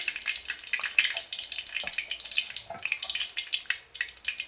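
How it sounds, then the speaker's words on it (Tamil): A large chopped onion sautéing in a pan toward a light brown, giving a steady close sizzle and hiss with small crackles and pops throughout. "வெங்காயம் நல்லா வதங்கட்டும்"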